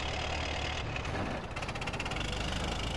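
Idling tractor engine in the video game San Andreas, a steady low rumble with a faint knocking texture, continuous and fairly close for the full three seconds, with no voices over it.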